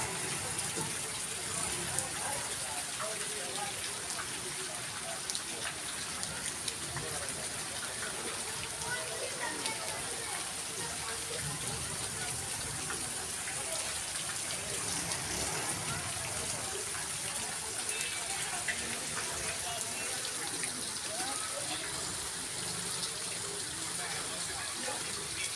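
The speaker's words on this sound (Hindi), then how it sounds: "सावन की खूबसूरत बारिश ये 2 घंटे से हो रही है, पहले तेज़ थी अब आहिस्ता हो गई है।" Steady light monsoon rain falling on a main road, a constant even hiss of fine drops lasting throughout with no pauses, moderately quiet and continuous.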